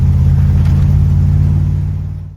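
Old Chevrolet Monte Carlo engine, parked for 20 years, running after gas is poured down it: a steady loud low rumble and idle close by, fading slightly at the end.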